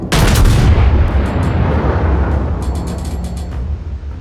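A heavy naval gun salvo from a warship in a naval battle video game booms loudly at the start, then a long rumbling roar and crackling decay follow, with no voices.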